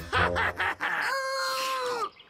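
Chickens in the cartoon Chicken Stew cluck in quick, choppy bursts, then one drawn-out squawking call rises and fades, nearby and fairly faint.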